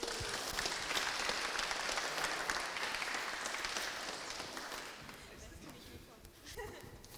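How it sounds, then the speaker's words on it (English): Audience applause fills the room for a guest introduced at a live conversation event, a steady dense clapping that holds strong for about five seconds, then thins and fades toward the end. "please give a round of applause for Becky, our rando of the day."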